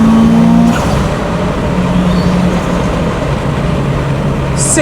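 Steady, loud engine drone from a 500bhp Subaru Impreza WRX STI with a built 2.1L engine while driving with a six-speed gearbox, heard from inside the car, with a low tone that shifts pitch slightly partway through.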